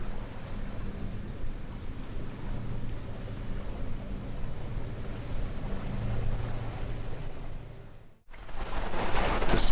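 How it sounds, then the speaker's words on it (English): Boats and ferries pass near Santorini: a steady low engine rumble with rushing wind and water, continuous and fairly close, then a brief cut before louder wash; no talking. "The ferry traffic is just non-stop."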